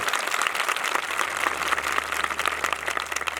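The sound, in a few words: congregation clapping loudly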